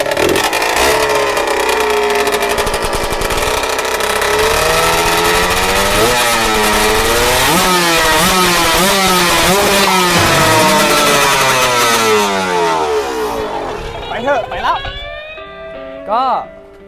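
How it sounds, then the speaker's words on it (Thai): A Yamaha TZR motorcycle exhaust revs repeatedly, its raspy two-stroke pitch rising and falling in quick blips before dropping off, loud and close. "ให้ฟังเสียงท่อ"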